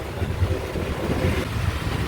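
Steady wind at a hot beach, a continuous low rumbling roar of gusts buffeting the microphone, with no talk.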